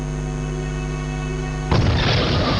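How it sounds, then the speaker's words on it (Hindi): A sudden loud blast from a reported attack on a protected historic monument, breaking in abruptly after a steady droning hum and leaving a broad, rumbling roar that carries on to the end. "ब्लास्ट किया गया।"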